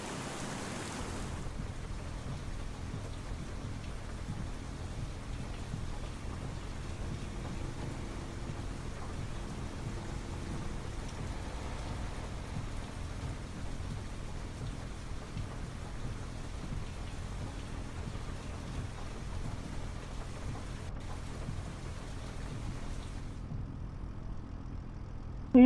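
Rain and thunder from the Farming Simulator 25 game form a steady hiss of rainfall with low rumbling beneath, continuous and even throughout, ending with a sudden cut near the close.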